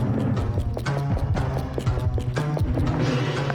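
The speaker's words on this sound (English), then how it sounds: "I hear footstep." Footsteps in a psychological horror video game, a run of uneven thudding steps over a steady droning, tonal game soundscape, fairly loud with no talk.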